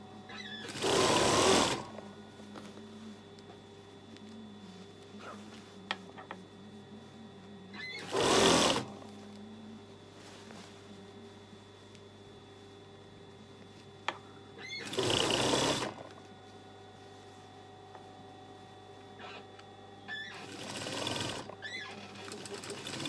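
Sewing machine stitching along the hip seam of a bridesmaid dress being taken in, heard in four separate bursts of steady whirring, each a second or two long, with quiet pauses between them.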